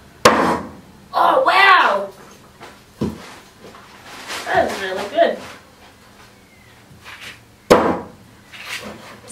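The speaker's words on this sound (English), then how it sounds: "Slices through these drumsticks and, oopsie, and straight through the bone right here." A Silky Ono axe chops through raw chicken drumsticks and bone in a few sharp, close impacts, with people talking and exclaiming between strikes.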